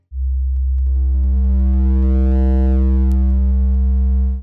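A pure sine tone flattened by hard-clipping waveshaper distortion rises abruptly, holds steady and loud with a dense stack of buzzy harmonics for about four seconds, then cuts off.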